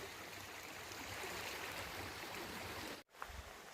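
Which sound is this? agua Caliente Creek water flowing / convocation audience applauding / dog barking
agua Caliente Creek water flowing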